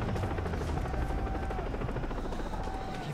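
A helicopter in the video game Far Cry 3 drones with a continuous, steady rotor chop and engine whine, loud and unbroken for the whole stretch.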